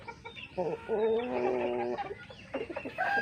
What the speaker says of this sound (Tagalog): Ito naman mga katigas yung ating breeder ng Buff Orpington.